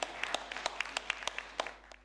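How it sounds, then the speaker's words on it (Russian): Parliamentary factions applaud in a chamber: scattered, sparse hand claps ring out at an uneven pace, fairly faint and trailing off at the end. "Друг другу аплодируют сразу все парламентские фракции"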